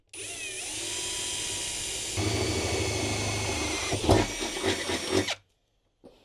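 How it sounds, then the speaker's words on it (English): A power drill bores bolt holes into the metal body of a Sprinter van, whining steadily at close range for about five seconds with a rising grind and chatter before cutting off abruptly. "now I'm just going to drill the holes for the bolts for these"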